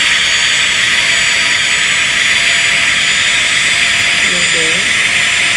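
Boeing 747 jet engines in a flight simulator game, a steady, loud, broadband roar and hiss that holds constant throughout with a high whine on top, while a brief tonal chirp sounds near the end.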